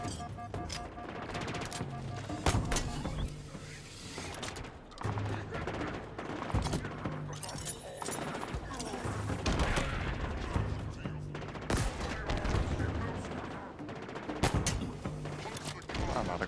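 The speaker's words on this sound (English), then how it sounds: "this pistol is powerful, and I love it" Pistol fire in Halo Infinite during a legendary co-op campaign: dense, repeated sharp gunshots mixed with other weapons and blasts, continuous and busy throughout a long stretch of combat.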